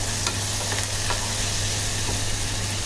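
Coriander going into a hot tempering (phodni) along with ginger-garlic paste, a dense, loud, constant sizzle of oil with a few faint stirring taps, no voices.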